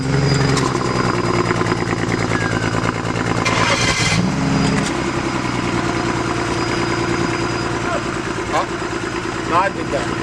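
BMW F30 car engine idling nearby, a steady low mid-pitched hum with a brief louder rev in the middle, and people chatting over it.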